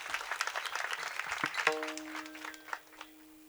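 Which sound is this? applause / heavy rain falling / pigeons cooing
applause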